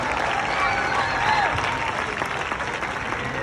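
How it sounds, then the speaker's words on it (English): An audience applauds steadily at a sea lion show at Six Flags Discovery Kingdom, a dense patter of clapping that stays fairly even for a few seconds, with faint voices mixed in. "Everyone, please give him a big round of applause."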